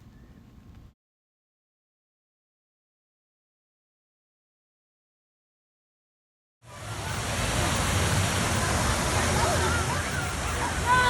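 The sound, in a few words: splashing water of a fountain waterfall on Michigan Avenue, Chicago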